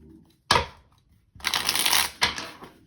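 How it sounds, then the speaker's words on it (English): Two decks of playing cards shuffled together for a solitaire game, heard as two close, crisp riffling bursts, the second longer, each ending in a sharp snap of the cards settling. "You're going to need 2 decks shuffled together."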